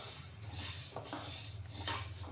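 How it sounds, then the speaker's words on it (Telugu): Coriander seeds roasting in a pan over a slow flame, with faint, close scraping and light metallic clinks from stirring over a low steady background hum. "ధనియాలు ప్యాన్లో వేయించాలండి"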